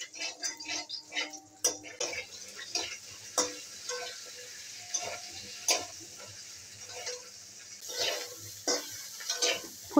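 Cauliflower and other vegetables frying in oil in a pan, a steady sizzle and crackle broken by repeated ticking scrapes and stirs of a utensil against the pan; no voices.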